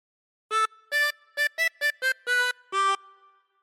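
A harmonica plays a short phrase of We Wish You a Merry Christmas, eight clear separate notes with a brief pause before the last two, close and alone.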